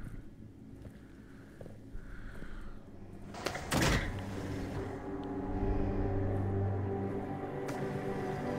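A door opening in the Jurassic World Aftermath VR game: a sharp mechanical burst mid-clip over a steady low hum, followed by a rising rumbling drone as it slides open.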